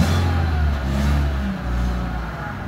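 A VW Golf MK4 engine revs steadily near the microphone after a CNG hose repair, a continuous loud drone with slight rises and dips in pitch and no speech over it.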